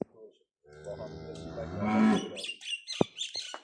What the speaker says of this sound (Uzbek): Mana bu chiroyli mollar tayyorlab qo'yganmiz.